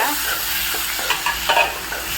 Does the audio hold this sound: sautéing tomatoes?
yes